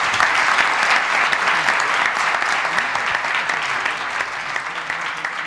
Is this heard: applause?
yes